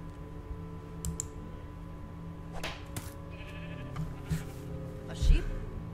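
A sheep bleats in Minecraft Story Mode, short wavering cries heard a few times amid game effects, clicking and a player talking over the scene.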